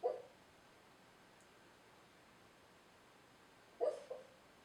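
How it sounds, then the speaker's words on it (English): Sleeping puppy giving soft muffled barks while dreaming, one short yip at the start and a pair of quick faint woofs near the end in a quiet room. "He always barks when he dreams."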